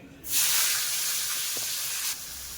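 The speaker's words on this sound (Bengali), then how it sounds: "তিনটে বড় সাইজের পেঁয়াজ ছিল পাতলা পাতলা করে কেটে নিয়েছি তেলের মধ্যে দেবো" Thinly sliced onions drop into hot oil left from frying fish, and a loud broadband hiss bursts up at once, holding steady for about two seconds before cutting off, close and alone.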